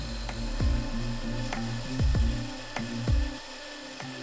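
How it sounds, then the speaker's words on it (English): A small belt sander grinding a steel spring flat, a continuous motor whine with bursts of harsher abrasive grinding as the metal is pressed against the belt, then eased off. "Then it's time to grind the spring flat. I do this with a small belt sander."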